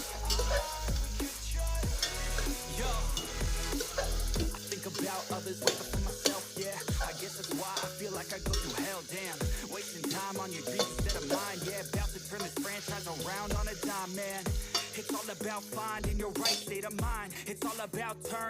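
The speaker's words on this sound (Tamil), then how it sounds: "ஒரு 2 மினிட்ஸ் இந்த வெங்காயத்தை நல்லா வதக்கிக்கலாம்" Onions sauté in a pan for brinji rice, a continuous sizzle with repeated scraping stirs of a spoon against the pan. The sound is close and steady, and no one speaks.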